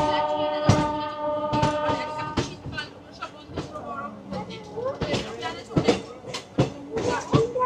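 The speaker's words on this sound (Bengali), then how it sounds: "এই যে এটা হচ্ছে কুম্ভ মেলা স্পেশাল ট্রেন, যেটা এইমাত্র প্রয়াগরাজ স্টেশনে আই থিঙ্ক ড্রপ করলো" A Kumbh Mela special train at Prayagraj station, with loud horn blasts and rolling wagon clatter amid a busy platform, sharp clanks and bangs scattered throughout, and people talking nearby.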